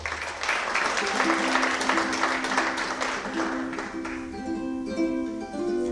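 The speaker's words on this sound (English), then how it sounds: "How about a hand for our sound guy, Derek Roy?" Concert audience applauding the sound engineer at a live show in a performing arts centre, a steady dense wash of clapping, loud and close, with a sustained instrument tone drifting underneath toward the end.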